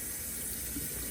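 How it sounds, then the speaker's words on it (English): Warm tap water runs steadily from a faucet over a turkey being washed in a sink, a continuous close splashing hiss with no speech. "Give it a nice bath with"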